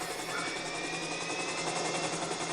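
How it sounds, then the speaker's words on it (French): A plane engine drones in GTA 5, a steady, loud whir with a faint high whine running throughout, no voices over it. "on prend l'avion et on va faire un petit tour"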